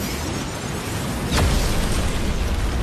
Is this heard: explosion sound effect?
yes